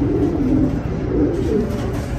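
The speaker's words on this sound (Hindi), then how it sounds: "बहुत चलाक कबूतर है" Racing pigeon cooing at night, low repeated throaty coos close by, steady and moderately loud with a faint background hum.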